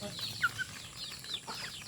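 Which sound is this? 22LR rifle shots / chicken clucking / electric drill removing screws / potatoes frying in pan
chicken clucking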